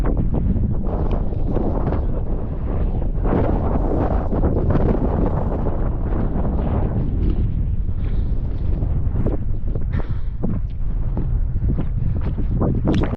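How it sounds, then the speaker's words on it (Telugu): Strong wind gusts buffet the microphone on the hilltop at Korigad Fort near Lonavala, a loud, continuous roar with rough surges throughout and no voices. "గాలి ఎట్లా వస్తుంది."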